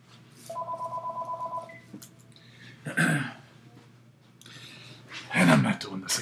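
A telephone rings with a rapid electronic trill repeating for about a second, followed by throat clearing and muffled handling noises, moderately loud in a quiet room.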